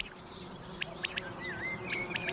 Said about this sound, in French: Et puis beaucoup de grillons aussi. Les champs des grillons, ça prenait tout l'espace.